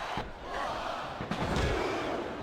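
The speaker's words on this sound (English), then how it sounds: "This capacity crowd is on its feet." A capacity arena crowd roars and cheers in WWE 2007, a dense, loud wash of voices with a couple of sharp thuds as the noise swells.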